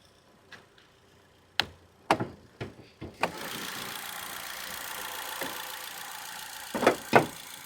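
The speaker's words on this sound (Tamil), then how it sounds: "வண்டியோட இன்ஜினை நம்ம பட்டனை ப்ரெஸ் பண்ணி ஸ்டார்ட் பண்ணிட்டோம்" A 2016 Ford EcoSport Titanium petrol engine is started by push button: a few sharp clicks and clunks, then the engine catches and settles into a steady, even idle, with a couple of louder knocks near the end.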